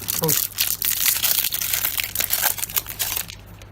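Foil wrapper of a Magic: The Gathering War of the Spark booster pack crinkles and tears close up in a steady run of rustling bursts, with a voice speaking alongside.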